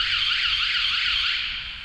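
A VanGuardian campervan alarm chirps loudly as it is armed, a bright warbling electronic tone holding for about two seconds before fading at the end.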